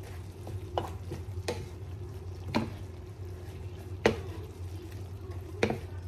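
A utensil stirs cabbage and vegetables in a frying pan, with sharp scraping knocks every second or so over a low, steady sizzle.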